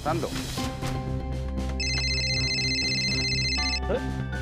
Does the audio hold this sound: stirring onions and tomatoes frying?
no